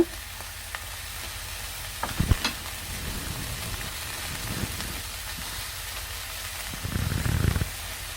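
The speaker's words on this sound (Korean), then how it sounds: "살살 저어서 익혀줄 겁니다." Sliced zucchini stir-fried in a pan with salted shrimp and garlic, a faint steady sizzle with a few clacks from stirring, close by and with no talk.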